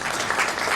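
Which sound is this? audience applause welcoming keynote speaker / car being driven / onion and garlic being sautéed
audience applause welcoming keynote speaker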